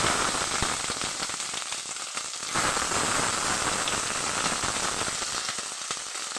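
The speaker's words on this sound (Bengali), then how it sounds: "ভেন্ডিগুলো ভালো করে একটু ভেজে নেবো" Whole okra pods fry in hot oil with a dense, steady crackling sizzle, close and continuous for several seconds with no talking.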